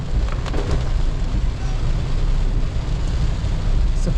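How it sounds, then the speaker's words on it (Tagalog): Heavy rain pours steadily onto a 2026 Toyota Wigo during a drive from Montalban to Cabanatuan, a constant dense roar of drumming with no voices. "Masyadong malakas yung ulan."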